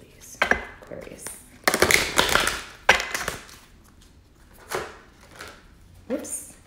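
Tarot cards from a crystal vision deck are shuffled by hand, heard up close as a few brisk riffling and slapping bursts separated by quieter pauses.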